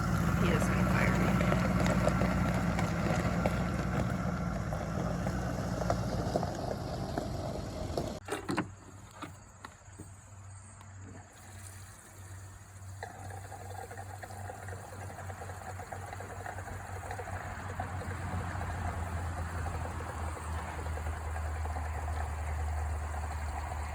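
Toro TimeCutter riding mower with a 24-horsepower engine driving two hydraulic pumps, a steady low engine drone running throughout, with a brief clatter partway through and people talking over it.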